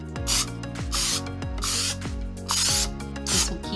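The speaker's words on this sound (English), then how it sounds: "I'm gonna coat this with a little bit of spray." Release coating is sprayed from an aerosol can onto a foam board mold, four or five short, loud hissing bursts in a steady rhythm, close up with no talking.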